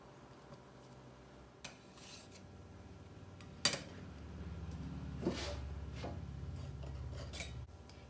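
A metal cookie cutter presses through rolled sugar cookie dough on a floured surface, giving soft scraping and a sharp clink, followed by dull rubbing and pressing sounds, close and quiet with no talking.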